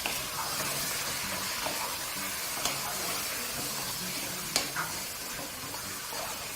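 Spiced lamb keema frying in a pan on high heat, with a loud, continuous hissing sizzle broken by occasional sharp scrapes and stirring knocks, close up and without speech.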